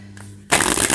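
A tarot card deck is shuffled in a single loud, crisp riffle of rapid flutters lasting about half a second, close up with no talking.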